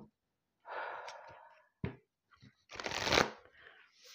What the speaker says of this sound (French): on va tirer une petite carte de la lunologie